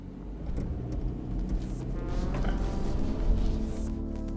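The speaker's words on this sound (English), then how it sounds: "I stop halfway up this incline and I try to get going again to see if the all-wheel drive system is any good." BMW X3 20 xDrive (G45) with all-wheel drive pulling away from a standstill halfway up an incline: a steady, fairly loud low engine drone and road rumble with faint mechanical creaks, continuous throughout without talk.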